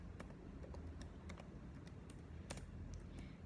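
Typing on a computer keyboard with one hand: a steady run of quick, close keystroke clicks over a constant low background hum.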